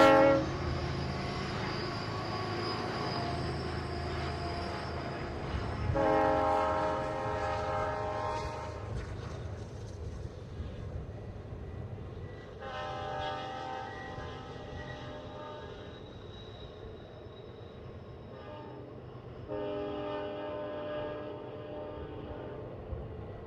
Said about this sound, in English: an officer train with 13 cars ran from Thenard to Barstow on an unrelated move and was seen climbing Cajon Pass near Summit.